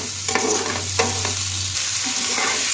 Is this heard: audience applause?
no